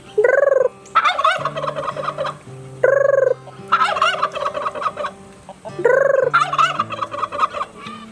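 A person imitating turkey gobbling on a farm by the turkey coop, with three rapid warbling gobble bursts repeating at a steady pace, loud and close, over a low sustained tone from other sounds.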